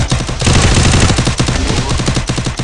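Rapid gunfire in a 4v4 shooting video game, loud bursts of shots packed densely across the whole stretch with no pause.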